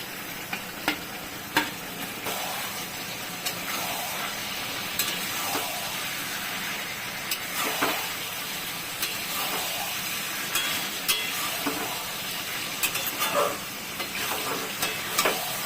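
Paneer frying with spices in a pan for biryani, a constant hissing sizzle with regular stirring scrapes of a spatula every second or so, close and steady.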